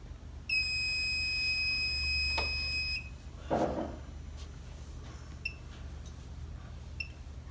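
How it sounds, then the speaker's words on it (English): The low water alarm on an OMNTEC oil water separator sounds a loud, steady high-pitched electronic tone for about two and a half seconds, followed by a clunk and a few faint short beeps. "you get a low water alarm."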